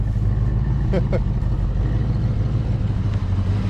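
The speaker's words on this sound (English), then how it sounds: "Actually idling now." The engine of an old Foxbody Mustang that sat unused for 20 years idles with a low, steady rumble throughout, close by, with a brief voice or click partway through.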